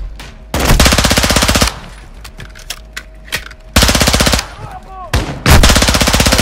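Rapid SMG bursts in the Modern Warfare 2 campaign, loud and close, with three long sustained volleys separated by scattered single shots and quieter gaps.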